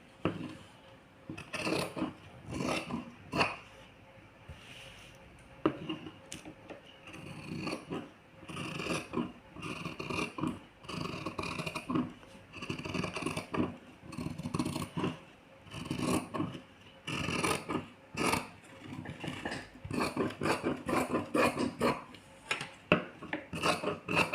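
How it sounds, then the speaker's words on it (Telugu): Scissors cut blouse fabric along chalk-marked lines in repeated crisp snips and rasping slides. The strokes come in uneven bursts with brief pauses, close and fairly quiet. "ఇప్పుడు మనం మార్కింగ్ చేసుకున్న విధంగా కటింగ్ అనేది చేసేసుకోవాలి"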